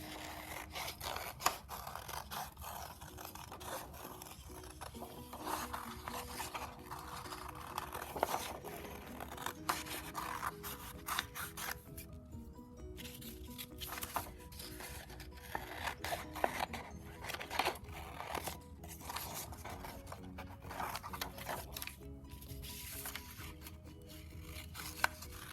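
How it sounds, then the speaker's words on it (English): Scissors snipping through paper while crescent shapes are cut out for a bird craft, a steady run of close, soft cuts and rustles with brief gaps and no talking. "This one I'll do 2 more crescents. We'll go ahead and cut them out."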